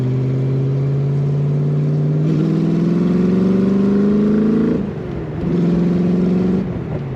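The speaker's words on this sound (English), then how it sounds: "you just want to keep pressing the throttle to hear that sound" A 1965 Shelby Cobra replica's engine revs loud and close while driving, a deep throbbing drone climbing steadily in pitch, dipping briefly as the throttle lifts, then pulling again.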